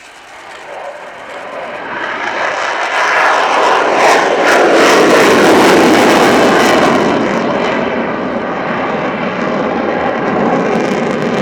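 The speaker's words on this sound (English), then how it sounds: "the slow pass now down at about 150 with the undercarriage coming down" Sukhoi Su-27P jet fighter making a slow, low-speed pass at an air display with undercarriage down, its engine roar swelling from quiet to a loud, close, sustained rumble and then easing slightly.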